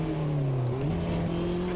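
A MINI Cooper JCW in Automobilista 2 (AMS2) holds a loud, steady, buzzing exhaust drone with a slight pitch dip partway through, close and continuous with no talking.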